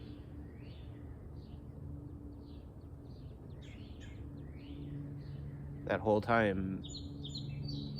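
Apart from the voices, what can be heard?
birds singing outdoors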